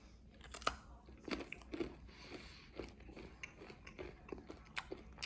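Close crunching and chewing of Buc-ee's Nutty Bites, small square salted caramel cashew and almond snacks, soft irregular bites and mastication at low level with no talking.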